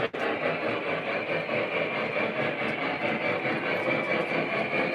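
A Lionel or MTH model train runs steadily along its track, a continuous close rumble and whir with faint clicking of wheels, unbroken and without talk.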